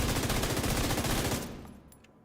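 An MG5 machine gun fires in The Division video game, a dense, rapid, loud burst of automatic shots for about a second and a half before cutting off into a brief fading tail.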